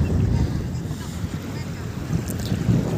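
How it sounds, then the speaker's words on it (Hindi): Strong wind buffets the microphone at sea off Dubai, a continuous loud low rumble with gusts swelling and easing, mixed with faint water and boat sounds. "ये देखें हवा कितनी तेज़ चल रही है"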